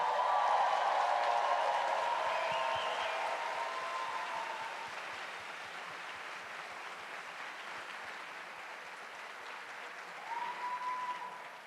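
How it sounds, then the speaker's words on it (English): A large audience applauds at the closing ceremony of the Erasmus Generation Meeting in Seville, 2024, sustained dense clapping that starts strong, gradually tapers, then swells briefly again near the end. "You're only getting this applause before the video even started"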